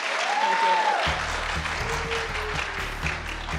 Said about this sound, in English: So give Julie a round of applause